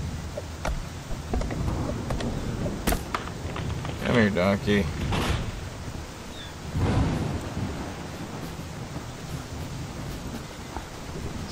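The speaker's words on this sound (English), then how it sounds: "It's a loud storm." Loud thunderstorm in the survival video game INCUR, with rolling thunder and steady rain filling the whole stretch, two heavier rumbles standing out midway, while someone talks over it.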